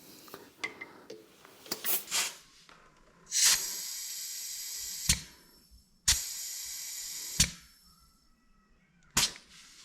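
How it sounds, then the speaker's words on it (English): A blowgun on a Kobalt quiet-tech air compressor fires several sharp bursts of compressed air, some short and one or two held for over a second, loud and close with quiet gaps between them. "Pull the trigger on the blowgun."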